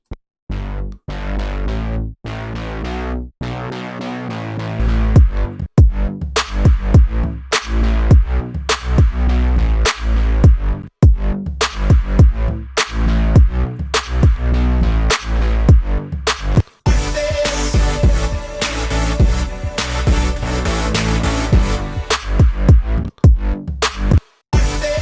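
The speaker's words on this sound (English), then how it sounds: "Let's add some distortion to it." A loud, continuous electronic track is dominated by a heavy bass line that is driven through a distortion effect in production, producing dense, gritty low end and punchy rhythmic hits that end in a brief dropout.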